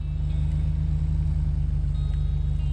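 Steady car engine from the video game Bad Way, a low, even idling rumble with a regular pulse, loud and constant throughout with no gear changes and no voices.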